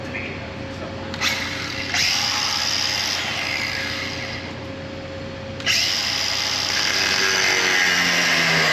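Power tool cutting a hole through the metal wall of a grain bin before welding, a loud steady grinding whine with engine-like drone beneath, stopping briefly and resuming louder, close by.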